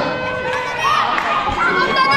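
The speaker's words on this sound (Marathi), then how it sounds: "एक रन आपल्या टीमसाठी तिथे वाचवला आहे, जोरदार टाळ्या" A crowd at a local cricket tournament match claps and cheers loudly after a run is saved in the field, with shouting voices mixed into the steady din.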